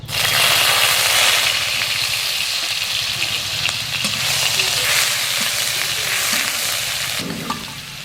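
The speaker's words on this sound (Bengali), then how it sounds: "তেলটা গরম হয়ে গেছে আমি এবার এর মধ্যে দিয়ে দেবো একটু রসুন বাটা" Garlic paste sizzles loudly in hot white oil in a wok while prawn chow mein is being made, a dense, steady hiss of frying that fades slightly toward the end.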